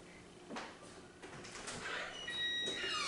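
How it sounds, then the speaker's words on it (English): A house door opens and closes as someone walks in and out, giving a few soft knocks and a sliding rumble at moderate distance, with faint squeaky tones near the end. "That is my son going in and out the door."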